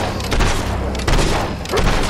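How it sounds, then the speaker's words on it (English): Gunfire in the Fable II video game, a dense fusillade of booming shots in quick bursts, fairly loud against a constant background rumble. "I'm just gonna shoot them right in the face."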